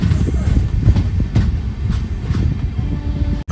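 An LHB-coached Venkatadri SF Express rumbles along the rails between Chittoor and Kacheguda, a steady low roar with rhythmic wheel clacks and faint squeals, heard from on board without speech.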